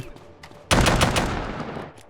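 A double-barrel shotgun fires in a video game fitted with an HD weapon mod: one loud, sharp blast bursts out after a moment of quiet and rings off in a decaying rumble.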